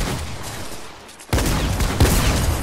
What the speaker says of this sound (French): Attention, je rate mes balles.